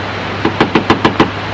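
Knuckles rap on a door late at night: six evenly spaced, close, solid knocks in quick succession against a low steady background hum.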